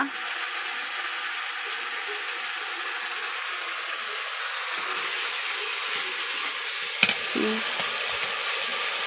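Potatoes dropped into a hot pan to fry in a home kitchen, a steady loud sizzling hiss throughout, broken by a sharp metallic clank and a brief scrape near the end.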